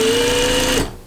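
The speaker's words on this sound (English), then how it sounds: "I clip this guy off and start sewing that one on" A sewing machine stitching the seams of an 18th-century dress runs with a steady, loud motorized whir for most of a second, then winds down.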